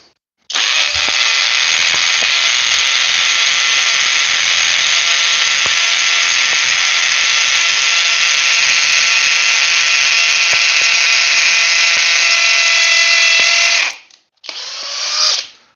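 A Flex rotary hammer drills continuously for about thirteen seconds with a loud, close, steady whining and buzzing roar, then stops briefly and restarts for one short final burst.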